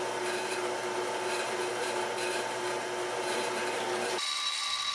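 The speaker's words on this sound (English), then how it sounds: "On to drilling." A power drill bores a hole through a metal knife guard for a WW2 commando dagger, giving a steady, loud, whining drone that stops abruptly near the end.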